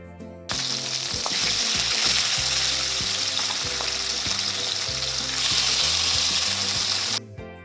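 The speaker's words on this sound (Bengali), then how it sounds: "আর এই যে এই 3 পিস মাছ আবার পরে ভাজবে, এই কটা ভেজে নিই।" Fish pieces fry in hot oil in a pan with a strong, continuous crackling sizzle that swells midway, heard alongside steady background music.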